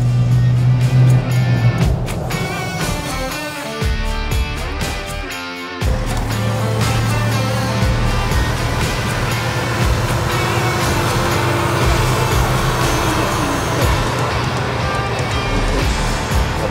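Jeep Wrangler driving onto the Transfăgărășan road in Romania, a loud continuous engine and road roar from inside or near the vehicle, with brief dips and shifts in the first seconds, no talk.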